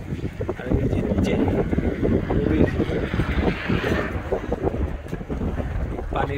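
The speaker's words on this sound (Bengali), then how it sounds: "পানির যে বাতাসের কি শব্দ," Steady wind gusts and water rushing on the river beneath the Bill Thorpe Walking Bridge in Fredericton, a continuous loud roar buffeting the microphone, with someone talking over it.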